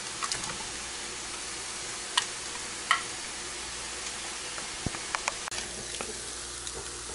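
Turkey sizzles softly on a grill whose grease drains into a pan, a faint steady crackle broken by a few sharper pops and ticks, with no talking.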